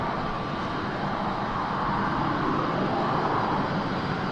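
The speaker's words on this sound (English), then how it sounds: "Sounded like a fighter jet." Jet blast from an aircraft departing Manchester, a loud broad roaring rush that holds steady and slowly builds throughout.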